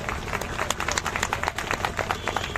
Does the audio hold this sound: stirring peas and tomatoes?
no